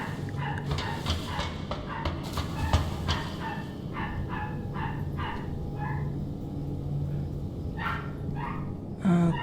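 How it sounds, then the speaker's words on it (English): A dog in a horror video game barks in a burst of repeated sharp yelps, moderately near, over a steady low rumbling ambience, with a louder bark at the very end. "My dog is going crazy."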